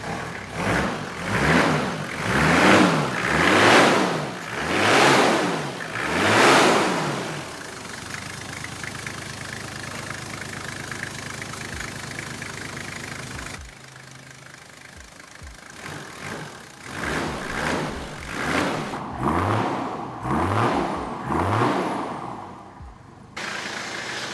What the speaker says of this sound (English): Got that 1HZD noise going on about it.